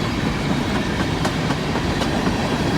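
A northbound BNSF empty coal train, a mega energy train led by locomotive 9211, rolls past close by with a steady, dense roar of wheels and cars and faint rhythmic clatter, no voices.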